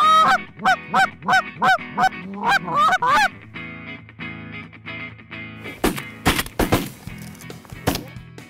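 Geese honk in a loud, repeated volley during a goose hunt in Saskatchewan, with calls crowding the first few seconds, easing off, then bursting again with sharp clatter toward the end.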